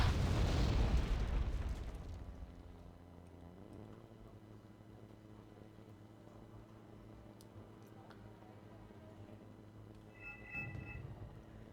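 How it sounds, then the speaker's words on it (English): Mortar fire in the real-time strategy game Wargame Red Dragon: a loud booming blast opens, then its rumble fades into low battle ambience, with a second, softer thump near the end. "More mortars firing."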